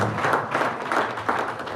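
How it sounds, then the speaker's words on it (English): A book launch ceremony audience gives a round of applause: dense, steady clapping from many hands that swells and eases in waves, fairly near and filling the room without any talk. "Let's give a round of applause."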